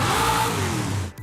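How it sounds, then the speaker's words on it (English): A car engine in Forza Horizon 5 revs during upgrade work, a loud rising then falling vroom with a sharp cut-off and a brief burst of engine noise afterward. "the ability to rev the engine during upgrade work"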